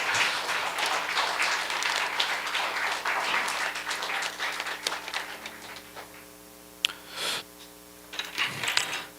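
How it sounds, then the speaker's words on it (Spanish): Church congregation applauding, a dense wash of clapping through the first half that thins and fades, with scattered louder claps and a few isolated bursts near the end. "Denle un aplauso al Señor."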